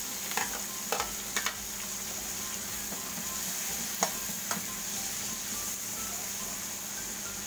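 Tomatoes frying in a pan for sarsiadong isda, a steady quiet sizzle with a few sharp utensil clicks and scrapes as they are stirred, no talking.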